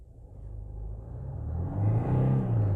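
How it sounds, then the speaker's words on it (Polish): A Renault Megane 1.5 dCi diesel with EDC automatic gearbox pulls away from standstill at full throttle, its engine rumble swelling steadily and growing louder over a few seconds, close and with no talk. "Wcisnąłem gaz do dechy."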